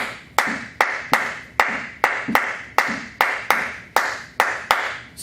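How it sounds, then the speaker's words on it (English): Hands clap a three-note clave rhythm, sharp and close, with claps grouped in an uneven repeating pattern, alone without talk. "Can you clap that for me"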